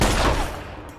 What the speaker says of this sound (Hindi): क्यों गोलियां चला रहे?